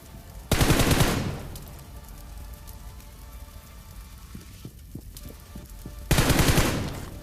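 Gunfire in the mobile battle-royale game BGMI: two loud bursts of rapid automatic fire, one near the start and one near the end, with a quieter stretch of scattered distant shots and ambient noise in between.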